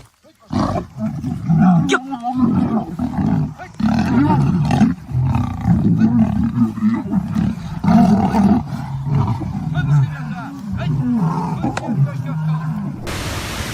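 Lions at a tourist attraction roar repeatedly in deep, rumbling bursts that are loud and close, filling most of the stretch with brief gaps between calls.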